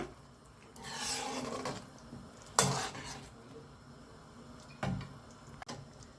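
Egg masala curry being stirred in a pan, with a utensil scraping and rasping against the metal in a few separate strokes and a sharper clink or two, close and fairly quiet with no talking.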